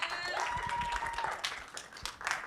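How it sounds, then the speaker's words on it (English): Pitch competition audience clapping for the next team, fairly faint and somewhat distant, a brief patter of applause with scattered voices and a whoop. "We'll give them a round of applause."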